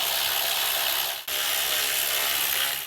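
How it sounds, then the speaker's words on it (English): Steady, close ratcheting from a socket wrench loosening 10 mm valve cover bolts on a 2005-2008 Honda Pilot engine, a dense continuous clicking broken by one short pause partway through. "Let's go ahead and pull off our valve cover fasteners."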